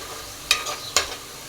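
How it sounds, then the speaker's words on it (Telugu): Soft background sizzle of ginger garlic paste frying in a pan, broken by two sharp scraping clicks of a spoon stirring against the metal. "మిక్సీ వేసుకున్న అల్లం వెల్లుల్లిపాయ పేస్ట్ మొత్తం ఇందులో వేసుకొని పచ్చివాసన పోయేంత వరకు ఇదైతే వేగనిద్దామండి"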